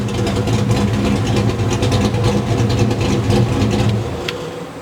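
A Foxbody car with a Trick Flow 170cc head top end kit runs on a hub dyno, its engine droning loud and steady at high revs before the note eases off near the end.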